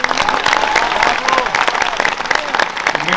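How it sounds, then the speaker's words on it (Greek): Loud crowd applause at a political speech, dense sustained clapping with cheering mixed in, filling the whole stretch at close range with no break. "να επιφυλάξετε το πιο δυνατό σας χειροκρότημα για τις γυναίκες και τους άντρες"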